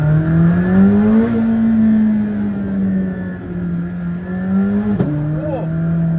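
A McLaren Senna engine holds a loud, droning rev in first gear, pitch rising and falling steadily before a sharp pop near the end, with voices talking over it.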